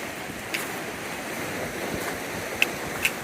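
Lake Superior waves wash against the rocky shoreline at High Rock Bay, a low rolling rush under wind, with a few sharp splashes standing out near the end, and no one talking.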